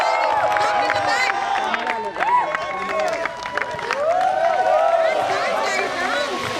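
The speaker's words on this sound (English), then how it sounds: "So huge round of applause." Applause and cheering from the crowd at a volleyball league prize ceremony as trophies and medals are handed out, a steady wash of clapping and voices with music and a live band mixed in.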